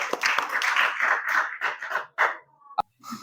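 Classroom applause breaks out after a group presentation, a busy patter of clapping hands that swells and thins in waves for a few seconds before stopping, with a brief voice or two near the end.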